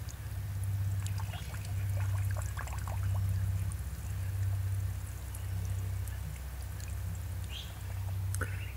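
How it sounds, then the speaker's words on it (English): Nutrient solution flowing through an aeroponic hydroponic tower, a steady close trickle and splash of water over a pulsing low pump hum. "Looks like the nutrient system is flowing nicely and smooth."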